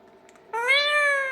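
A talking parrot imitates a cat's meow, one clear drawn-out mew rising then holding, close and loud after a brief faint lead-in.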